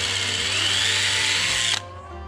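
A power drill bores a pilot hole for a motorcycle luggage rack on a 2019 Vaquero, a loud close whine that rises slightly in pitch for under two seconds before cutting off sharply.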